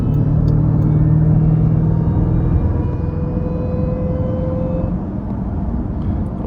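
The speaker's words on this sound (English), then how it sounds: "The Whine just sounds so good. I could just listen to that all day." A Jeep Trackhawk cruising on a highway gives a steady, loud road rumble and engine drone, with a thin supercharger whine sitting above it throughout and no talking.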